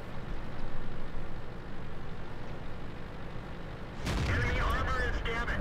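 A tank cannon in World of Tanks fires once, a sudden loud boom that breaks over a low rumbling engine drone and rings on afterward.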